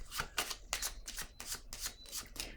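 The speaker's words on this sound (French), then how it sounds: "Je vais piger une autre petite carte." Cards from a deck are handled and drawn in a quiet run of about eight quick, papery flicks at an even rhythm.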